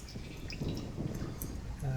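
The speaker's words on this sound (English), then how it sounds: "Next to it is another pump, or at least a release valve. It's letting the water out." Water gushes out through a release valve beside a pump in the realMyst game, a steady liquid rush with scattered dripping and gurgling sounds.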